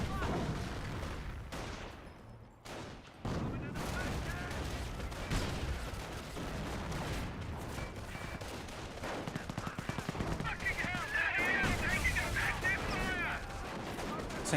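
Distant gunfire and explosive bursts from mortar half-tracks rattle through a Company of Heroes battle, with repeated shots and booms running under a caster's ongoing commentary.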